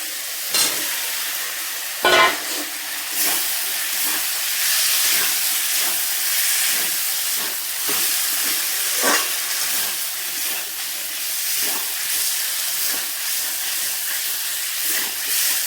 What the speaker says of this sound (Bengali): এরপর ডিম আলুগুলো দিয়ে একটু কষিয়ে নেব।